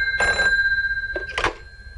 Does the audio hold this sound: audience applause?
no